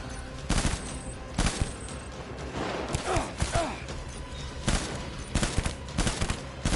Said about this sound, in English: You can hear the thud as you get the hits.